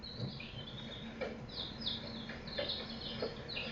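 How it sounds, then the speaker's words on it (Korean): High, thin peeping calls repeat in quick bursts, several small chicks cheeping over a faint low hum. "병아리 소리"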